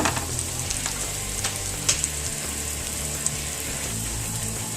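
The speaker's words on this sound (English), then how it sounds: "See, our veggie patties are starting to boil up." Veggie burger patties fry in a pan, a constant bright sizzle with occasional pops and crackles, close and steady without speech.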